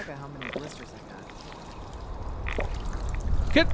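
Character drinking water in Fallout 4, a short pouring, gulping liquid sound with brief splashes, under a steady low background and faint voices.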